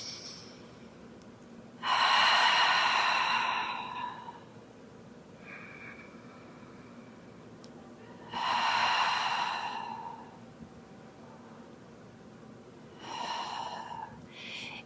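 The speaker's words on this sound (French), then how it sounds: "Prenez quelques respirations profondes en inspirant par le nez," Slow, deep breaths during a gentle yoga session, drawn in through the nose and out through the mouth: three close, airy breaths separated by quiet pauses.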